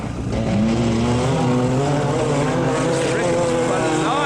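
Racing cars, an old Mazda and a Honda, speed past with steady loud engine drone and shifting tones, while people talk excitedly over the noise.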